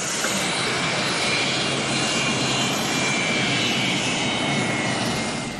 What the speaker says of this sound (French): L'avion présidentiel tchadien s'immobilise.